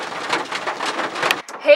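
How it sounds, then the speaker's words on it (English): Sudden rain at a farm, heard from inside a car, makes a dense steady patter close by that briefly cuts off near the end. "it started raining all of a sudden"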